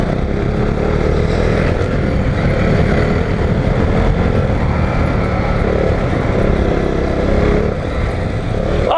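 An adventure motorcycle on 60/40 adventure tires rides off-road over soft, dusty dirt with rocks, its engine droning loud and steady throughout, close up and without talk.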